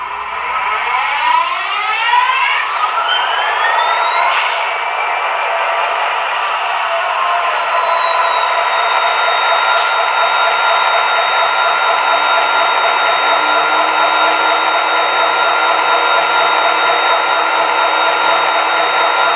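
Athearn HO scale SD60 model locomotive with Econami DCC sound plays a rising diesel engine drone with a whining turbo-like tone that climbs and then holds steady, loud and continuous, with no talking.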